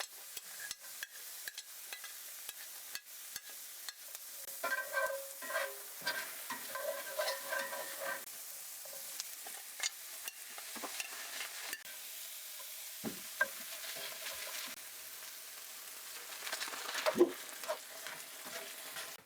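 Onion and garlic frying in a pan used for steaks, with a soft continuous sizzle and repeated scraping and tapping of a utensil stirring, some louder knocks, and no talking.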